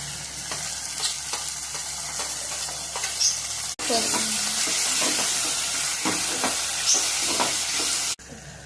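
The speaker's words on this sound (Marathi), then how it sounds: "मिरचीची पेस्ट, हे पण असं छान परतून द्यायचं" Chili paste with ginger-garlic paste stir-frying in a pan, a steady loud sizzle broken by repeated scraping stirs and spoon taps, continuous with no talking.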